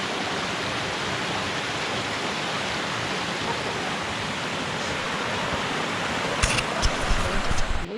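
A creek flowing along a marked forest trail in Pisgah National Forest near Twin Falls: steady, broadband rushing water, close and constant, with some handling noise near the end.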